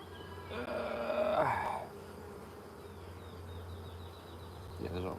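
Honeybees buzz close by during a hive frame inspection, a steady droning hum with a louder swell near the start; a person speaks faintly in the background.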